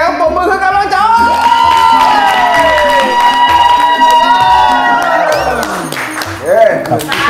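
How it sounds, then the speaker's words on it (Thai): Audience applause and cheering from a crowd at a Thai music game show, a loud steady wash of clapping and shouts running throughout, with bright sung or shouted voices rising over it. "เสียงปรบมือให้กำลังใจ"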